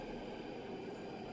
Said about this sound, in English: I can hear trains, but I don't see any.